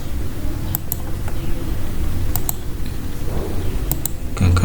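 Computer mouse clicks at a desk: paired sharp clicks spaced across a few seconds, crisp and close, over a steady background hiss.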